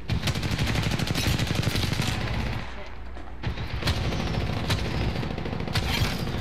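Rapid gunfire in the video game Apex Legends, repeated sharp shots and bursts with a short lull midway, loud and close, with players talking over it.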